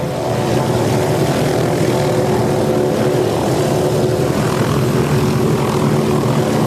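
Police helicopter in flight over Los Angeles at night, a steady, loud rotor and engine drone that holds unbroken throughout with no talking.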